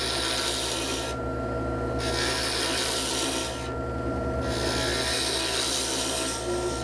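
Wood blank spinning on a lathe while a turning tool cuts shavings, a steady broadband scraping rasp with a low motor hum beneath, the cut briefly pausing twice as the tool lifts away.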